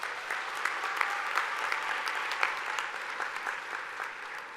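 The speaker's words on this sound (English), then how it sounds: "Can we just give them a round of applause?" A large crowd at a university welcome day applauds first-year students with continuous, full clapping, steady and even with occasional sharper claps standing out, tapering slightly at the end.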